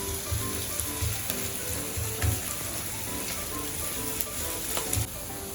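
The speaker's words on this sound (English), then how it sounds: "We'll continue stirring it until the onions are a little brown." Shallots fry and are stirred in a pan for Chettinad chicken varuval, making a soft, steady sizzle like light rain, with faint scrapes of the spoon now and then.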